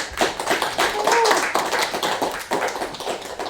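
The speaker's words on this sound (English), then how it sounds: "Round of applause for Ash." Applause from an audience at a game developers' meetup greeting the next presenter, a dense crackle of claps with some taps, steady and fairly loud throughout.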